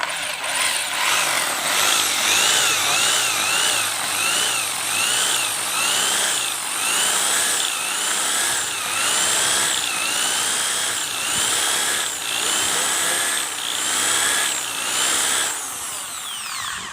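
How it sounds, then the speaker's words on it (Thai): A power drill boring through wood on a solar-powered setup with a weak battery, whining steadily and loudly for the whole span with shifting pitch as it bites, no talk. "อันนี้คือทดลองเจาะไม้นะครับก็ทะลุ"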